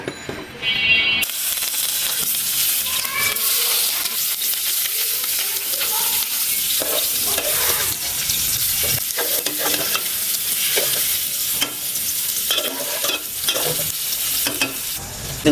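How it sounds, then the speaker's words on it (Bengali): Pieces of rui fish fry in hot oil in a cooking pot, giving a loud, constant sizzle and hiss. Occasional scraping stir sounds break through the frying noise, and nobody speaks. "এখন মাছটা ভেজে নেব"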